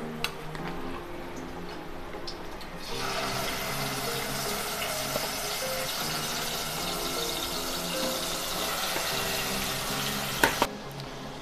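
Marinated vegetables and green chillies frying in hot oil for a vegetable biryani, a steady broadband sizzle that rises sharply after the ingredients go in and holds for several seconds with faint clinks, no talking.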